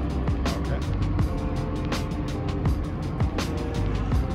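A steady motor hum from a TowFLEXX TF5.4 RC aircraft tug as it creeps toward an aircraft's nose wheel, continuous and close, with rhythmic clicks and whirring layered through it.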